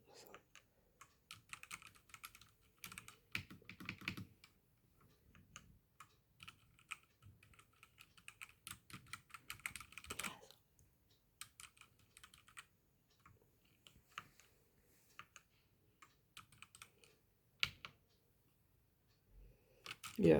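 Typing on a Ronin mechanical keyboard: a steady run of close, crisp key clicks in bursts and pauses, with a few louder clacks and no speech.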